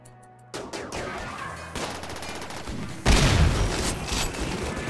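Rimworld combat gunfire, with a bolt-action rifle among the weapons. Bursts of rapid shots start quietly, then swell into a heavier, louder volley toward the end, with no voices.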